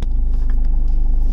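A car idles with a loud, steady low rumble as it is driven out of parking, the engine drone close and continuous with no talk.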